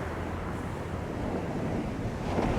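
Rough sea surf breaking on a beach at Hornsea on the English east coast, a steady loud roar of waves with wind buffeting the microphone throughout.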